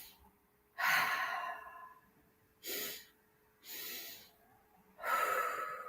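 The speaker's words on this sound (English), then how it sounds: "we're going to take a double sniff in." Quick double sniffs in through the nose during a belly breathing exercise, four separate airy breathing bursts spaced about a second apart, close and soft.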